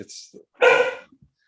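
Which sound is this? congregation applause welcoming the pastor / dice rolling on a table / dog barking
dog barking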